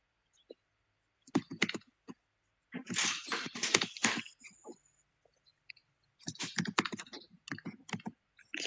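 Typing on a computer keyboard during a programming class, with bursts of rapid, close key clicks separated by short pauses.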